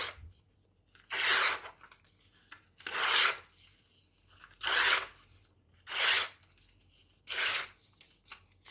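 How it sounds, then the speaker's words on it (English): Unglossed paper being torn by hand for papier-mâché: five slow, separate ripping strokes about 1.5 seconds apart, close and clear with quiet gaps between them. "And look how nice it tears with that uneven line."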